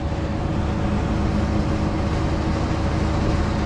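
A CAT 777 haul truck engine runs at a steady idle close by, a continuous low rumbling drone with no pauses.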